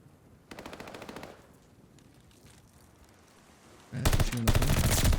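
Gunfire in a competitive video game match: one burst of rapid automatic fire, a quieter stretch, then a louder, closer volley of rapid shots near the end.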